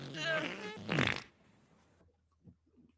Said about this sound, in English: For example, I'm about to fart right now.